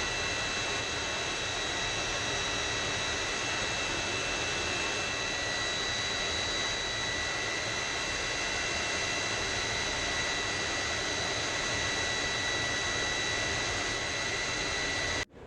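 The engine of an F-100F Super Sabre jet in flight fills the cockpit with a steady, loud, broadband roar and whine that never lets up.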